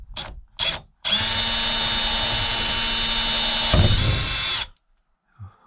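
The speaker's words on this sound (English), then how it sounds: "drill the first hole." An electric drill whirs loudly and steadily for several seconds, boring a hole through a teardrop camper build, with a couple of brief clicks before it starts and a stop at the end.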